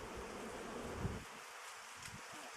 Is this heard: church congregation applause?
no